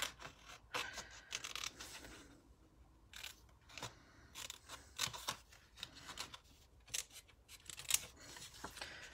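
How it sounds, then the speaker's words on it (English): Scissors snipping through a piece of paper for a stamped paper-piecing craft, a run of close, crisp cuts in irregular bursts with short pauses between; no talking. "So I'm going to just take this off of here and cut that piece up."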